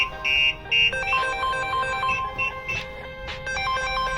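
A Starline Solaris van alarm on a VW Transporter places a phone call after triggering: a ringtone plays steadily, a repeating electronic melody with pulsing tones, fairly loud and close, no voices.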